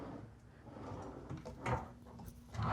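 Hotel room drawers in a Delta Hotels by Marriott room in Orlando are slid open and shut, giving soft wooden scrapes and a few dull knocks close by in a quiet room.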